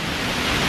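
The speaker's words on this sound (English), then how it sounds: "So we've got a man-made waterfall there." Man-made waterfall on a brook running down a valley, giving a steady, dense rush of falling water that fills the whole short stretch with no breaks or voices.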